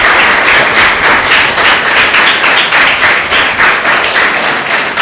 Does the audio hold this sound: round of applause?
yes